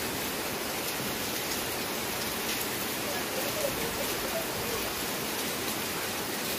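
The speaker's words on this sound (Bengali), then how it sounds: "এখন দেখি একদম প্রচুর বৃষ্টি হচ্ছে।" Heavy rain pours steadily and evenly throughout, a dense continuous hiss of drops close by with no gaps or talk over it.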